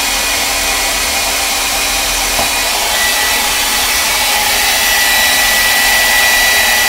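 A drying tool blows over the layers of a mixed-media art journal page, a loud, steady, unbroken whirring hiss held close for the whole stretch with no talk.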